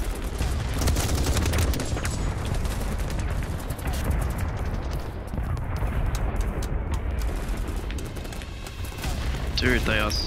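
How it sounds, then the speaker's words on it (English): Repeated grenade blasts and gunfire in the game Battlebit, a dense continuous barrage of booms and shots throughout, with players' voices talking over the chaos. "Dude, they are spamming grenades."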